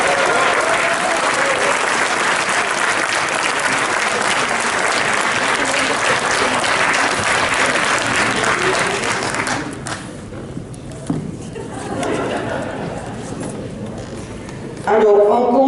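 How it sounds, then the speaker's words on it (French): An audience at a public prize-giving ceremony at an art fair in Marseille gives a long, dense round of applause for about ten seconds. The clapping then thins to scattered claps and murmurs, and a few claps return at the end. "On peut encore l'applaudir."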